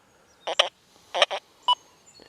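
A metal detector on a sensitive program sweeps over coal and answers in short, bright electronic pitch tones, in pairs and singles with pauses between, loud and close against a quiet background.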